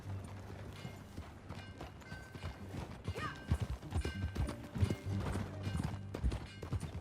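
Horse hooves clip-clopping in Red Dead Redemption 2, a run of uneven clopping thuds with creaking tack over low background ambience, becoming denser and louder toward the end.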